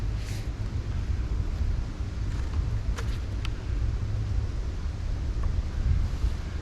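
Steady wind buffets the microphone at a truck campsite, a constant low rumble with occasional faint clicks and handling noises, no voices.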